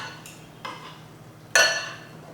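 A spoon stirs and scrapes through a beef salad in a bowl, a few light clinks followed by one sharper, louder scrape near the end, over a quiet background.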